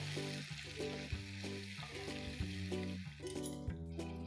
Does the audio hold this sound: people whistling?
no